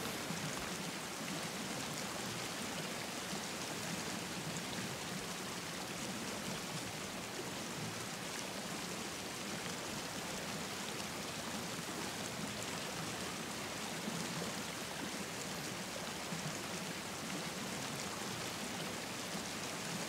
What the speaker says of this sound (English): You mean down this waterfall?